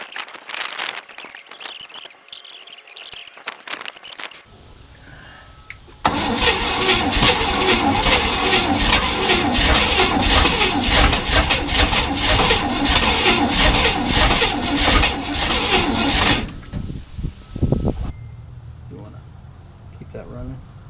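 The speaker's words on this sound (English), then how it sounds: "it should start up without me being on the gas" A Chevy 327 V8 in a 1967 Chevrolet C10 pickup cranks and catches, then runs at a steady, loud idle for about ten seconds before shutting off, with someone talking briefly before the start.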